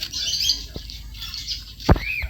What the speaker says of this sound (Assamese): এইটো ককটেল বুলি কৈছে, এইটো চৰাই হয়